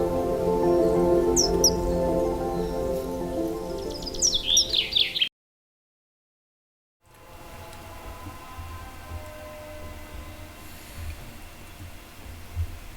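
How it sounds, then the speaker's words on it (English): A kingfisher gives quick, bright chirps in a rapid run over a busy background, then everything drops to silence before a quieter stretch of ambience. "This is a bird. A kingfisher"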